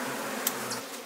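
Honeybees buzzing at a hive inside a hollow tree, a dense close drone with a brief sharper buzz of a single bee passing near the microphone.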